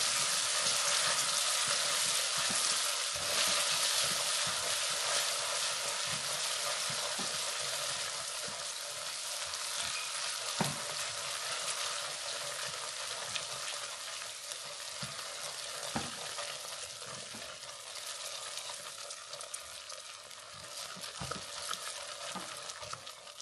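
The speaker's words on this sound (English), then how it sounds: "and then add in your butter. And stir that as well." A spoon stirs butter into brownie mixture in a pan over continuous soft sizzling, with scattered scraping clicks and taps throughout and no voices.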